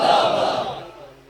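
A large crowd at a religious gathering bellows a single loud answering slogan in unison, which quickly swells and then fades away over about a second.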